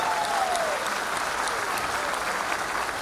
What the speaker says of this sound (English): I am going to ask you to give a great applause for all our male champions